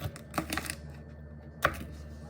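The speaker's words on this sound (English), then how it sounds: "And then you cut your green beans up." Knife cutting green beans on a cutting board for a steak side dish, a few sharp separate chops with quiet gaps between them, close and fairly soft.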